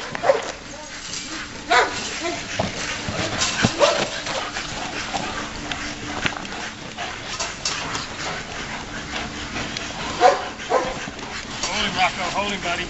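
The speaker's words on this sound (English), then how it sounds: "Good dog, Rocko." A police K9 dog during bite training gives intermittent barks, yips and whimpers at close range. The sounds are mixed with scuffling and crowd noise, and a handler talks over them throughout.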